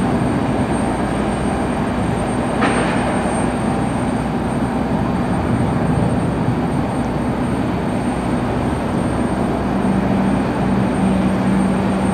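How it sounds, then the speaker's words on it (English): A Delta Airbus A321 airliner at Cleveland Hopkins Airport gives a steady, broad jet roar heard from a distance, with a faint tonal whine running beneath it throughout. "Delta 2290. Airbus A321 heading to the mega hub that is Atlanta's Hartsfield-Jackson"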